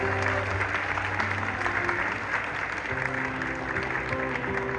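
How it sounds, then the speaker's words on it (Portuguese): Steady applause from an outdoor Christmas crowd in Dois Irmãos, Rio Grande do Sul, clapping for a young boy, continuous and fairly loud throughout with a faint voice underneath. "Uma salva de palmas para o nosso Miguelzinho."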